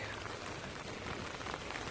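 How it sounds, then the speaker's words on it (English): Steady rain falling at Hickory Motor Speedway, a racetrack in North Carolina, makes a dense, even hiss that holds at the same level for the whole stretch, with no voices over it. "Must be raining."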